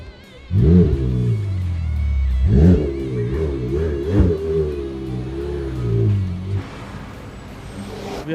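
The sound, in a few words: McLaren 720S engine revving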